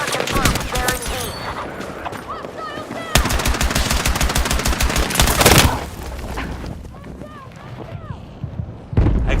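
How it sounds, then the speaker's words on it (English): Enemy machine gun fire in the Battlefield 6 video game comes in loud, rapid bursts of sharp cracks. A sustained volley gives way to scattered shots, with voices heard faintly underneath. "Enemy machine gunner confirmed."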